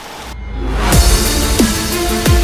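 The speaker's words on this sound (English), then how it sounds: "This is the rain in the UK right now." Heavy rain pours in the UK as a loud, steady wash of hiss, with a few whooshing sweeps passing through it.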